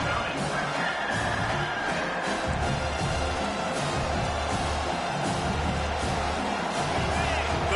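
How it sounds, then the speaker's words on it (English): Stadium crowd in a college football video game roars steadily, a dense unbroken wash of cheering and noise that stays loud throughout, with a commentator's voice mixed in. "this crowd is tearing the lid off this place"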